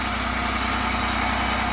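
A 2000 Pontiac Bonneville SSEI engine idles after a head gasket replacement, burning off oil from bad valve seals, a loud, steady, close rumble with constant vibration and no pauses or voices.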